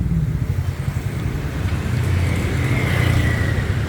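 Motorbikes and other traffic pass along a busy Bangkok street, a continuous close engine drone that swells as a bike accelerates by toward the end, with no voices.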